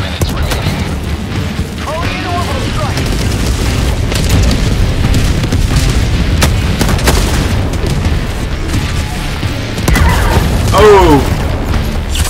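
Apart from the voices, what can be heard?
mortar explosion in the video game Helldivers 2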